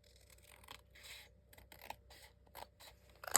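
Scissors trimming paper card for a handmade tag book, a series of quiet close snips and crisp cuts spaced irregularly, with a sharper rustle at the end.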